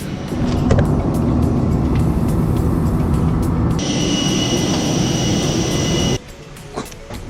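Steady, loud engine roar inside a passenger airplane in flight. The cabin drone is constant, a high whine joins partway through, and the noise drops sharply near the end.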